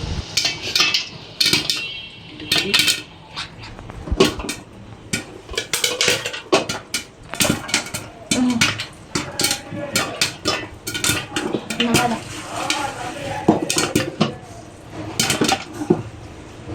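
Plates and dishes being handled on a table after washing: loud close clatter and clinks of crockery and cutlery in irregular bursts, with brief pauses between.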